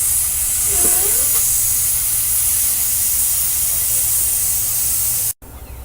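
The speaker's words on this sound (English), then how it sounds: "I'm gonna press the pedal, and then we're gonna watch the gauges." A truck's air brake system gives a steady, loud hiss of escaping air while the brake pedal is held during an air system check, running almost unbroken before cutting off abruptly near the end.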